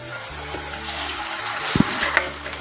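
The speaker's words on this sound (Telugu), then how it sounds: "అల్లం వెల్లుల్లి పేస్ట్ కూడా వేసుకోవాలండి వేసుకొని మరొకసారి కలుపుకోవాలి" Ginger garlic paste and onions for gongura chicken are stirred in a pan, making a steady frying hiss with a few scraping strokes and a brief louder scrape near the end, close by and without talking.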